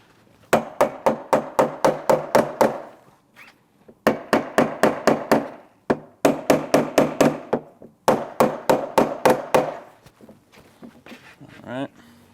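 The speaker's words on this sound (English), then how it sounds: "And then we're going to come in with our mallet, and I'm going to hammer just the top of the handle posts here." A mallet strikes the tops of the handle posts on a Griot's Garage Ultimate Detailing Cart during assembly, four close, loud bursts of rapid, evenly spaced blows separated by short pauses, with a brief rattle at the end.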